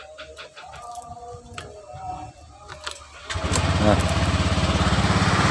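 Honda Vario 125 scooter engine starts after a stretch of talk and nearby handling noise, then runs at a steady, loud idle with an even pulsing beat through to the end.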